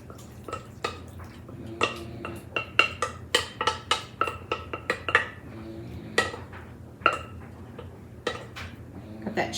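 A glass Fire King casserole dish is handled up close, with a quick run of light clinks and taps as it is shifted and touched, bright, uneven and fairly loud, with no talking.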